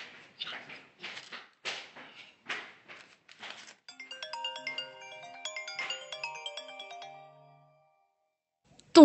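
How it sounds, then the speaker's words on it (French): A mobile phone ringtone plays a bright, repeating electronic melody in an indoor home setting, entering after several short bursts of talk and continuing for several seconds before stopping abruptly. "Ton téléphone sonne."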